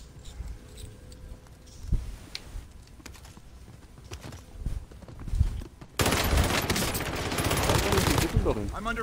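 Video game gunfire crackles in bursts over a busy mix of game noise and player talk, growing into a dense, loud sustained barrage in the final few seconds.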